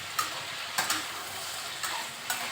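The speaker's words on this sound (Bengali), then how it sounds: "কচুগুলোকে কিন্তু লাল লাল করে ভাজতে হবে।" Taro pieces are stir-fried with salt in oil for a taro and shrimp dish, a continuous sizzle broken by several sharp clicks and scrapes of a spatula against the pan.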